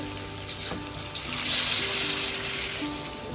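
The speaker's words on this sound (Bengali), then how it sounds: "এবার আমি অল্প পরিমাণে জলটা দেবো" Water is poured into a fish curry masala sizzling in hot oil, a loud steady frying hiss that swells into a burst of bubbling and spitting before settling to a continuous sizzle, with light stirring scrapes.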